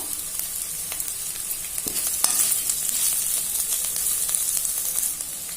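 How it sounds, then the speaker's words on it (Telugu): Curry leaves sizzle in a pan of leafy-green curry seasoned with asafoetida. The frying holds a loud, steady hiss with a couple of brief crackles and no talk. "కొద్దిగా కరివేపాకు కూడా వేసుకుంటున్నాను"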